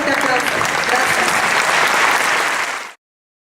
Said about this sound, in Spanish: recibamos a nuestros invitados con un fuerte aplauso